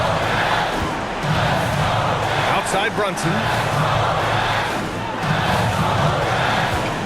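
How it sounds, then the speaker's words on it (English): A simulated basketball arena crowd in NBA 2K22 roars continuously and loudly, with cheering swells over a dense wash of noise, while a play-by-play commentator talks over it. "And the crowd is locked in."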